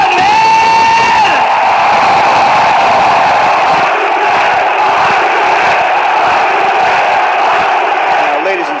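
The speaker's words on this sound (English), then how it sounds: "The friends of Jericho, cheer me on, man!" A live wrestling arena crowd at WWE Monday Night Raw cheers and roars continuously, loud and dense, with whoops and shouts rising above the sustained noise.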